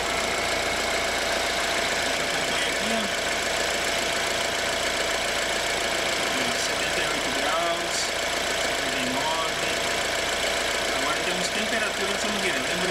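A BMW X1 engine idles steadily at close range, a continuous low rumble with a faint knocking texture throughout.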